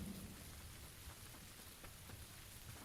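Steady rain in a console shooter game, a constant wash of falling drops with low rumbling underneath, faint and even throughout with no voices.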